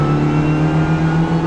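A Renault Clio Cup race car at Nogaro circuit holds a loud, steady engine drone at high revs, a continuous buzzing whine sustained right up close through the short stretch.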